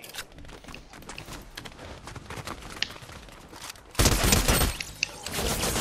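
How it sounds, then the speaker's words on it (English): Gunfire in a Fortnite match: a cluster of rapid shots and scattered impacts, quieter for the first four seconds, then a louder, denser burst of shooting near the end, with footsteps mixed in. "There is shooting right here, though."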